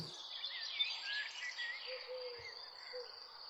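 An owl in an animated story gives soft low hoots inside a cave, a few brief calls over a steady bed of cricket-like chirring and faint ambience.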